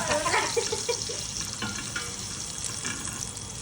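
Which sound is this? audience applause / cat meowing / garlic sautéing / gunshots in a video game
garlic sautéing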